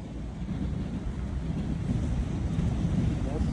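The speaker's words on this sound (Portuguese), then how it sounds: "Olha lá, o vento tá doido, tá trazendo ele pra esse lado" Strong gusty wind buffets the microphone outdoors during kite flying, a steady loud low roar with rising and falling gusts throughout and no clear speech over it.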